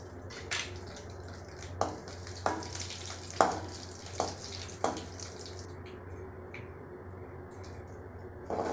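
Curry leaves and garlic cloves frying in oil for mustard chutney, a faint steady crackle with a handful of spaced scraping stirs, quiet and close.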